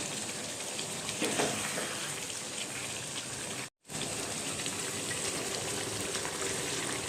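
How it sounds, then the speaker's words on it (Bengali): Chicken korma being stirred and sautéed in a pan gives a steady, dense sizzling hiss that runs throughout at even loudness, broken by one brief silent gap near the middle. "তাই এটা শুধু এইভাবে নাড়াচাড়া করে কষিয়ে নিতে হবে।"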